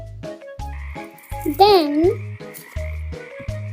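Cartoon frog croaking in a pond in a children's story, a few rising, warbling croaks in the middle with a repeated low bouncy musical beat underneath and a voice speaking briefly.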